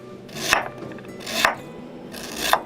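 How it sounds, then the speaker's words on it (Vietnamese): Three crisp knife cuts slicing ginger, about a second apart, each a sharp slicing stroke ending with a tap on the board. "Gừng mình cũng cắt lát luôn để chút mình luộc tai heo ha."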